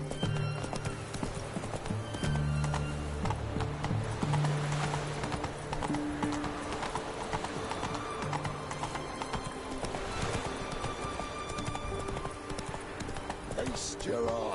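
Rapid hoofbeats of a galloping horse in The Witcher 3 clatter close and continuous, a brief neigh breaking through, while voices and game music carry on beneath.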